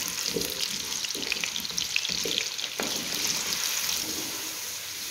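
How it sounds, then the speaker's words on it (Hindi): Potatoes frying on a high flame in a karahi give off a steady, loud sizzle with occasional stirring scrapes, close and continuous. "इसी तरह हाई फ्लेम पर हम आलूओं को अच्छी तरह फ्राई कर लेंगे"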